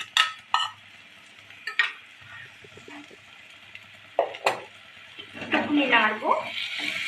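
Vegetables being stirred in a frying pan with yogurt beaten with salt added, scattered spoon scrapes and clinks over a low sizzle, building into busier stirring near the end.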